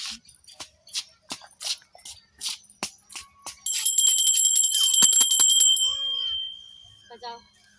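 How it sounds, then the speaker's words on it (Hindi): A small temple bell at a Shakti Mata shrine is rung, first in a string of separate clear strikes, then in a rapid continuous ringing that fades away, with soft shuffling nearby. "घंटी बजा लो"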